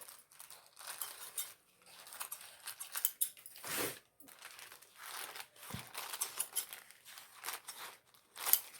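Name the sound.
cutting plastic bag with scissors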